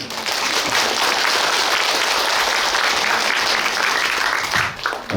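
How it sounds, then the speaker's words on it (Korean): Loud, sustained applause from the members attending a general meeting of the Woosin Villa association, a dense wash of clapping that holds steady for about five seconds before briefly dipping near the end. "자축하는 의미로 다 같이 크게 박수 한번 쳐보겠습니다."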